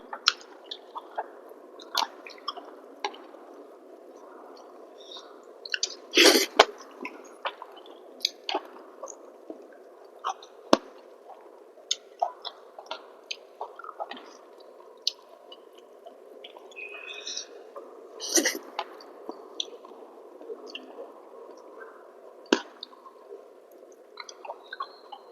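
Someone chews and eats cooked pointed gourd at close range, making soft, wet, squishy bites and mouth sounds that come in scattered bursts over a quiet background.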